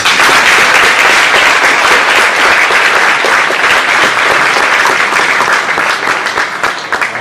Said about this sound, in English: Can we give these kids a round of applause?